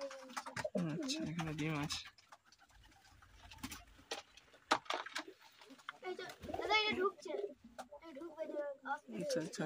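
Pigeons at a pigeon farm coo and flutter in the background while people talk close by, with a voice among them and bird calls coming through between and under the speech.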